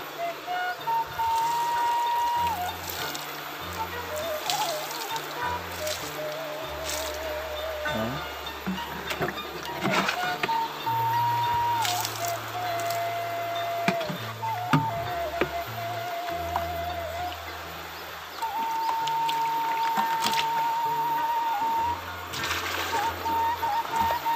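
Water trickles and splashes steadily onto the soil around a Musang King durian plant, with brief pauses and soft rustling between pours, under a background musical tone.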